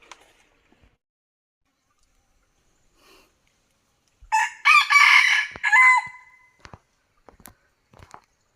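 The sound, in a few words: decoy rooster and wild junglefowl crowing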